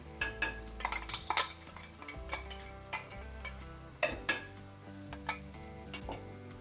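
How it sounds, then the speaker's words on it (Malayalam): A spoon stirs roasted ground masala into a bitter gourd curry in a pan, giving repeated scraping strokes and light metallic clinks at an uneven rhythm, close and clear, over a faint sizzle. "ഇനി ഇതൊന്നും മിക്സ് ചെയ്താൽ മതി"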